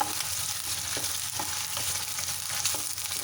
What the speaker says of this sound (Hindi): इसी ऑयल में मैं डायरेक्ट चिकन डालूँगी। इसको अच्छे से फ्राई करेंगे